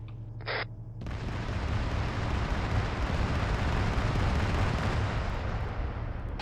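A weapon system explodes in a video game, a brief tone followed by a sudden loud, sustained rumbling blast that holds steady for several seconds.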